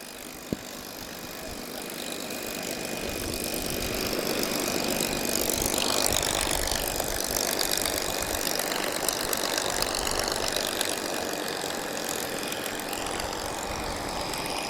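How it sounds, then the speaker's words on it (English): Spitfire with a Packard Merlin 266 engine taxiing at an airshow, a steady rumbling engine drone with a rough rhythmic throb, heard at moderate distance with a brief sharp click near the start. "Spitfire is taxiing."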